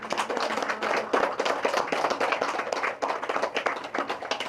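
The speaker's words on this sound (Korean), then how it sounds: "한번 박수 치면서 끝냅시다" Rhythmic hand clapping from an audience at a Buddhist Buddha's Birthday dharma service, a moderately loud crowd clapping in quick uneven bursts without speech.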